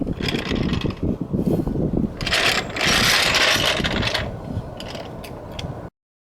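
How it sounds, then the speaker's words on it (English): A car jack clicks and ratchets in rapid mechanical strokes as it raises a car, working in bursts with grinding clatter before stopping abruptly. "want to jack it up slightly so that some of the tension comes off of the wheel"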